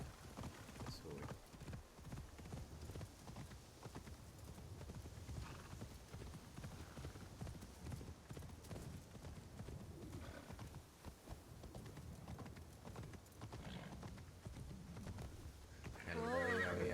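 In the Assassin's Creed Shadows video game, a ridden horse's hooves clip-clop in a steady gait and the horse neighs now and then. Someone talks over the game sound, with faint birds in the background.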